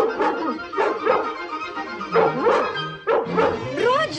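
Dalmatian dogs barking in an animated scene, several sharp, close barks and yips in an irregular rhythm, with some whimpering between them.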